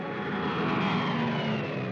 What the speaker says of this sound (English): Weather planes such as this Mosquito